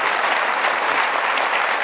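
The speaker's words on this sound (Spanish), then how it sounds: "Un fuerte aplauso a todos los padres esta mañana." A church congregation giving a strong round of applause for fathers on Father's Day, dense, even clapping from many hands, loud and close, filling the short moment without pause.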